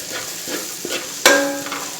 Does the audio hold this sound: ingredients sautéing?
yes